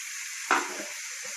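Onion and capsicum fry in a pan on medium heat as filling for a chicken roll. A steady, fairly quiet sizzle carries on throughout, broken by two brief scraping stirs.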